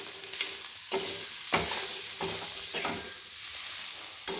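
Onion chutney sizzling on an iron griddle, with a spatula stirring and scraping in repeated strokes over a steady close frying hiss.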